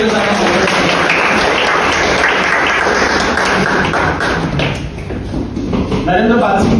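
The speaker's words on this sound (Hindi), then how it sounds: "जोरदार तालियों के साथ" Loud, sustained applause from a large audience greets an honoured professor at an annual Hindi literary ceremony in New Delhi, a dense roar of clapping mixed with crowd noise that dips briefly near the end before rising again.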